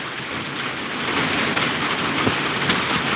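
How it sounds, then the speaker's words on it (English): Steady rain falls throughout, a dense, even hiss with a few faint patters, loud and close, with no voices. "that is the noise that you hear is coming from the rains. It's raining."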